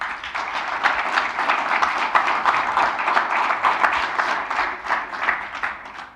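A church congregation claps together in a brisk, rhythmic burst, the individual hand claps distinct and close, continuing steadily for several seconds.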